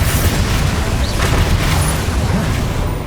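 Bombarda explosion spell in Hogwarts Legacy: a loud, booming blast with dense low rumble filling the whole short moment, fading slightly at the end.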